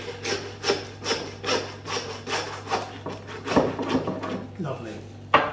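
A knife saws back and forth through fallow deer ribs during home butchery, giving steady rhythmic rasping strokes about twice a second, close and fairly loud.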